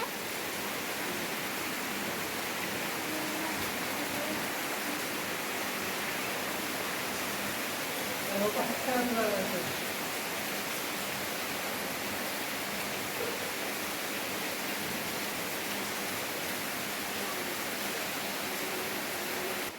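Steady, soft hiss of rain falling continuously for the whole stretch, faint and even, with a brief slightly louder patch in the middle and no voices.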